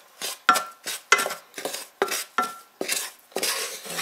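A spoon repeatedly knocks and scrapes in a bowl while arrowroot is mixed into chocolate pudding ingredients, giving about nine brisk, close stirring strokes in quick succession.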